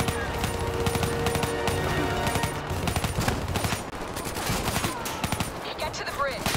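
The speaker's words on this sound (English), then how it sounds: "Give me some cover fire." Dense automatic gunfire in Call of Duty Black Ops III rattles on in continuous rapid bursts, loud and close, with overlapping shots and battle noise throughout.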